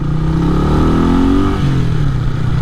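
Honda CB250RS Mark II motorcycle is ridden at close range, its engine loud and buzzing, pitch climbing under acceleration and then dropping sharply as the revs fall.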